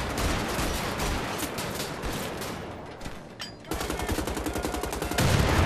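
Light machine gun fire from Wolfenstein: The Old Blood, dense bursts of rapid gunshots that run almost continuously, thin briefly in the middle, then return as a loud, fast rattling volley near the close.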